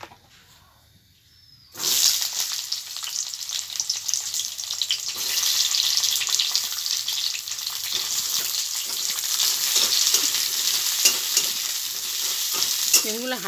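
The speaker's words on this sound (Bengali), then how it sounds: "এবার আমি এই তেলের মধ্যে বেগুনগুলো দিয়ে দেবো" Sliced eggplant drops into hot oil after a short quiet start, then sizzles and fries loudly and steadily close by, with occasional stirring scrapes; no one speaks.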